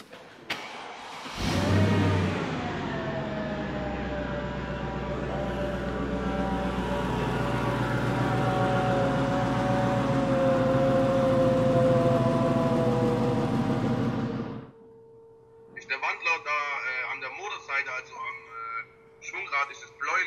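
A Corrado car engine cranks and starts after a drive shaft and torque converter repair in a workshop, then runs steadily for about thirteen seconds before shutting off, followed by people talking.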